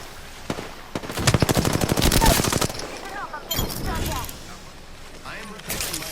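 Sustained automatic gunfire from an Apex Legends firefight: a long rapid burst of loud close shots, then scattered single shots and game chatter under a voice.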